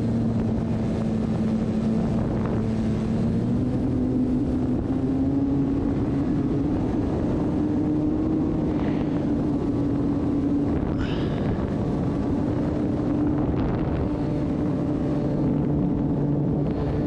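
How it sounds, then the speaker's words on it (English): A drone flies overhead outdoors, giving a steady droning propeller hum with a slowly wavering pitch that runs continuously and fairly loud, mixed with wind rumble and no talking. "Give us a nice view of the drone."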